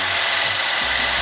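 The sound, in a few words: drill pre-drilling window trim pieces for screws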